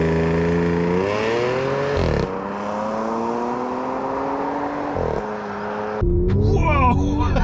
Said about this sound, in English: Hold the brakes, mash the throttle, let go.